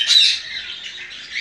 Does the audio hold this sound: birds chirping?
yes